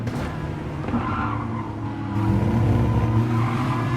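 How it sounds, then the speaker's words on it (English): Race car tyres squeal through a corner at Interlagos in Gran Turismo Sport, a sustained screech over a droning engine that swells louder partway through. "Tyres squealing around Little Orange."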